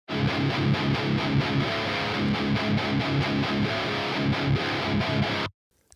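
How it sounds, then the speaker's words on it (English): An electric guitar is recorded direct and played through an amp simulator. It gives a loud, heavily distorted riff of tight rhythmic chugs that plays continuously for about five seconds, then cuts off abruptly. "If I just pull up an amp sim here, I instantly have a new guitar tone."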